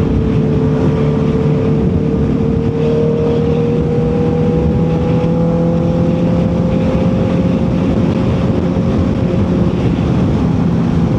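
A 2025 Honda CB650R motorcycle with E-Clutch rides along at a steady engine drone, rising slightly in pitch, with heavy wind rush over the microphone and no talking.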